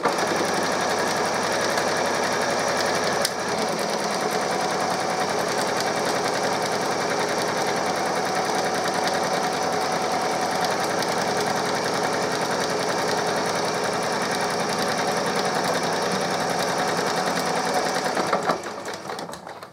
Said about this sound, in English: Continue to sew your seam.